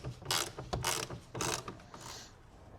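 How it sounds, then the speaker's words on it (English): Wrench working a hood latch bolt loose, several quick ratcheting clicks in three or four close bursts, fairly faint and with no talking. "We're gonna go ahead and loosen that one."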